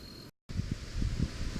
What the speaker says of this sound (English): I wanted wind, and I've got wind